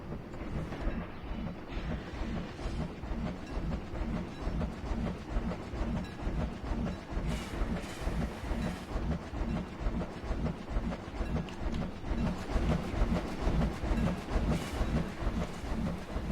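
A train runs along its track in the video game Planet Coaster, a steady rhythmic clickety-clack of wheels with a rumbling low hum that holds evenly throughout, loud and close with no talk.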